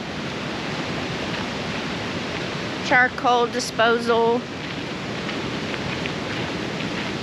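Lucia Falls in Washington, a waterfall in a park with picnic tables, gives a steady, even rush of falling water throughout, with a short stretch of someone talking briefly over it in the middle.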